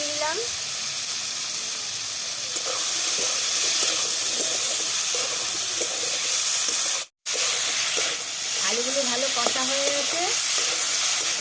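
Small diced potatoes fry in a pan for vegetarian ghugni with a steady, hissing sizzle and occasional stirring. A brief gap cuts through the middle, and a person talks over the cooking.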